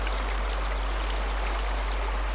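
Flowing water of the River Goyt, a steady close broadband rush and trickle of a stream with no voices, continuous for the whole short stretch.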